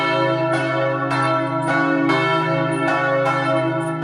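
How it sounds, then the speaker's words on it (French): The Sainte-Barbe bell rings in the right tower of the collegiate church of Semur-en-Auxois, loud and close, with strikes every half second or so over a continuous resonant hum. "Dans la tour de droite la cloche Sainte-Barbe, elle sonne les événements les plus graves"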